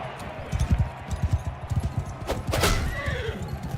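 A horse in the Mount & Blade 2 Bannerlord game, set in a Dorne conquest, whinnies in pain after being struck, a loud neigh over rapid clip-clop hoofbeats and battle noise.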